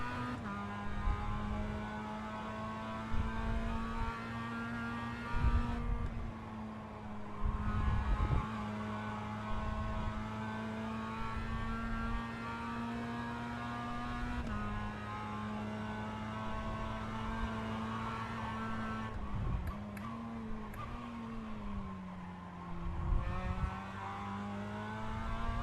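A Mazda MX-5 race car engine in iRacing, a steady, moderately loud droning note that holds level with brief dips and shifts where the revs drop and pick up again, with no talk.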